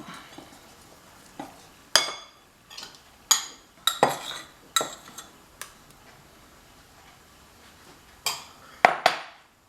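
Pancake batter of flour, milk, eggs and butter is mixed in a bowl, heard as a series of close, sharp utensil clinks and taps against the bowl at an uneven rhythm, with no talking.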